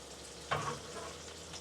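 Zucchini dropped into a hot pan of garlic cooking over medium-low heat, giving a sudden close sizzle that flares up loudly, then settles into a steady frying crackle.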